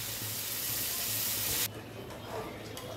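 Onion, green chillies and whole spices frying in a little oil for a simple homemade biryani, a steady close broadband sizzle that drops suddenly to a quieter bubbling hiss partway through, with no talking.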